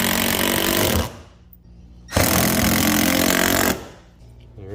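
A power tool drives bolts down on a Taco outrigger mount aboard a Pursuit 385 Offshore boat, running in two loud, sustained, close whirring bursts with a short pause between them and no talking.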